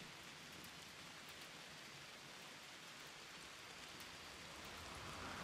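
Steady rain hisses in the video game RimWorld, a dense even wash of falling drops that holds for several seconds and swells slightly near the end, with no voices.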